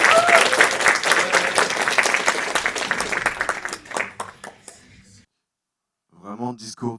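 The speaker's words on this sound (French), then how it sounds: "Maximum d'applaudissements." An audience at the PortraitFr Awards 2025 ceremony applauds loudly and densely, the clapping thinning into scattered claps and fading out, followed by a short pause and then a voice speaking.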